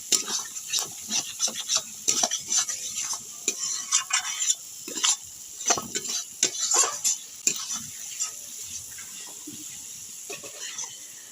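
Chicken kosha masala fries in a pan under a soft background sizzle, with a ladle scraping and knocking against the metal in irregular, busy strokes.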